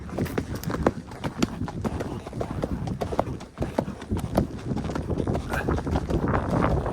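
A horse gallops with rapid, rhythmic hoofbeats close to the microphone, accompanied by wind buffeting and occasional voices.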